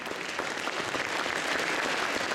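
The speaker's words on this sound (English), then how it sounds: "Give them a big hand of applause." Dense, steady applause from an audience honoring children at a volunteer-run cultural event, a continuous wash of many hands clapping with no voices over it.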